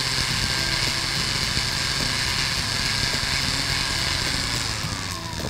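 A Foredom rotary tool with a burr cuts a V prong, giving a steady, close, high-pitched whine with grinding texture that holds evenly throughout.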